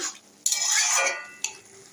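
A spoon stirs prawn curry in a pan to cook down the water, giving two brief close scraping strokes over a soft sizzle.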